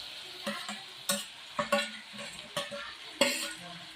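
Sliced onions and tomatoes sauté in a pan: a soft sizzle broken by about six distinct scraping clacks of a spoon against the metal, close and without speech.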